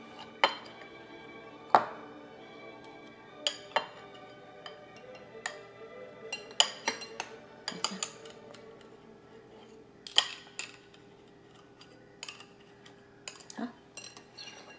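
Knife and fork clink and scrape against a plate while food is cut, sharp scattered metallic ticks over a quiet background, some close together and others spaced apart.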